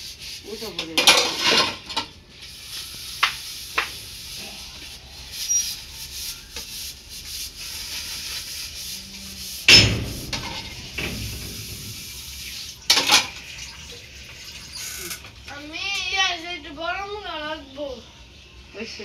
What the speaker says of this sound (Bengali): আমার প্লেটটি ধোয়া হয়েছে